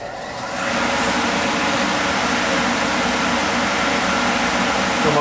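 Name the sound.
Kellenberger 1000U universal grinder main spindle running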